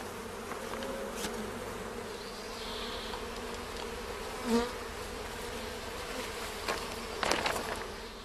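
Honeybees buzz inside a specimen cup, a continuous close drone with brief louder flurries as they move.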